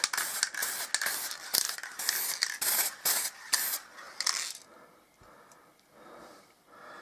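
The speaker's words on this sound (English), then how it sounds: "you give it a quick spray over the top" Several quick hissing bursts from a spray can, close and fairly loud, in an uneven rhythm, then fading to quiet rustling, as it sprays over the top of a bottle lamp.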